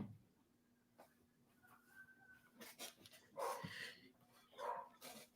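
A pet dog at home barks when the door opens as someone arrives. A few faint, scattered barks and yips sound at a distance over low room noise and faint background murmur.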